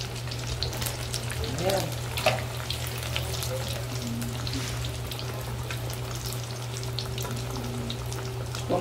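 Macarrão quadrado, a square pasta, deep-frying in hot oil gives a steady, loud sizzle with a low hum beneath it, and a brief voice speaks over it.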